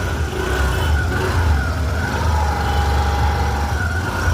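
A TVS Jupiter scooter engine running after its fuel pump was bypassed, a steady, close-up motor drone that holds even with no revving.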